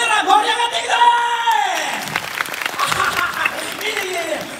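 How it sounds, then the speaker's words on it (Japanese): Spectators at a Universal Studios Japan monster rock and roll live show clap along on cue while a performer's shouting voice rides over the crowd's applause. "よーし、全部拍手で返してくれよ。"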